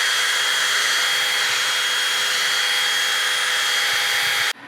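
A power tool spins a brush against a barbecue grill grate, a loud, steady, high whirring grind that holds for several seconds and then cuts off sharply at the end.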